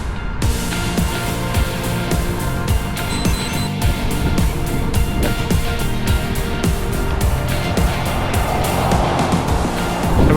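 Vehicles on a fairly busy rural Florida road, heard from a bicycle: a continuous roar of passing cars that swells and recedes over ten seconds, with no voices.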